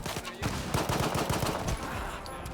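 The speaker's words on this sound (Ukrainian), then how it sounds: "Але підійшовши ближче, вони почали по мені стріляти" Rapid bursts of gunfire in the video game STALKER 2 crackle in quick succession, fairly quiet and continuous, with no voices.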